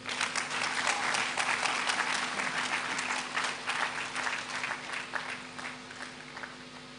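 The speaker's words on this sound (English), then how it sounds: "one more round of applause for the Minister for Food and Agriculture, the Honorable Eric Opoku" A large audience at a programme matriculation ceremony claps for a government minister, a thick sustained round of applause with individual claps standing out, slowly easing off toward the end over a steady low hum.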